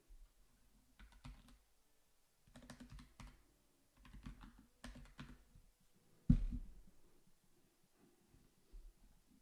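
Bursts of typing on a computer keyboard, quick clusters of key clicks separated by short pauses, with one louder thump partway through; no talking.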